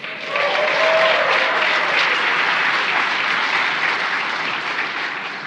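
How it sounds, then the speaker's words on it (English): A studio audience claps loudly and steadily for several seconds, a dense wash of hands that holds strong before easing slightly toward the end. "I can still hear all the echoes clapping here in the studio"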